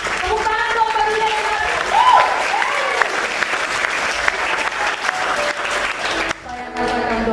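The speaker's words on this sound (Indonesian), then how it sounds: "Tepuk tangan dong bagi dia." A congregation applauds during a church service, with steady clapping held at moderate loudness for several seconds and brief tonal sounds mixed in before it tapers off near the end.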